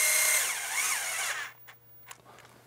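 A power tool gun snugs down reed cage bolts on a Ski-Doo E-TEC engine, giving a loud, close whine that winds up and down before cutting off, followed by a couple of faint clicks.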